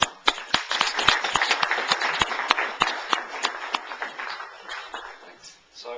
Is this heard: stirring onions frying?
no